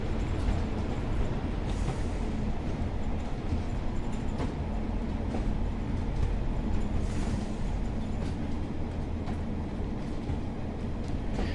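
Class 185 diesel train running in Train Sim World 6 on the Tees Valley Line, a continuous rumbling engine drone with rolling track noise and faint rhythmic clacks, steady and fairly loud, no talking.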